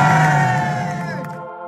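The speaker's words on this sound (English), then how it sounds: "the crowds cheered for Reggie as he left to go back to prison" A crowd outside cheering and shouting loudly for Reggie Kray as he leaves, a dense roar of many voices that fades away over a couple of seconds.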